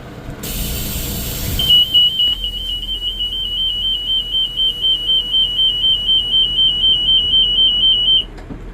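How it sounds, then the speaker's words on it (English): A bus's service door alarm beeps rapidly and continuously for several seconds at a high pitch, then stops, over a low engine idle. "This also does have a service door alarm."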